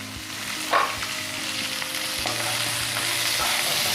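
Lengthwise-sliced onions hit a hot pan for jeera aloo and sizzle steadily throughout, with a brief utensil clatter near the start.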